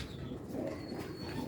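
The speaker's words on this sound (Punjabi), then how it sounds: "ਕਬੂਤਰ" A White Tiger breed pigeon coos close by in a low, continuous throaty murmur that stays fairly quiet and steady throughout.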